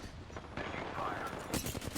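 Short rattling bursts of automatic gunfire in the battle royale game Apex Legends, fairly close and steady for two seconds, with game voice lines mixed in.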